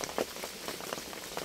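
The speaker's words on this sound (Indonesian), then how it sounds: "hujan udah mulai reda sobat" Rain easing off over a bamboo shelter after two days of heavy downpour: a soft, fairly quiet patter of scattered drops on surfaces, with small irregular splashes and no voices.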